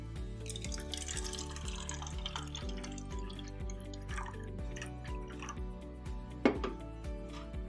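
Carbonated-free alkaline water poured from a can into a glass, a steady close liquid splash with faint dripping and a brief clink near the end, heard alone without talk.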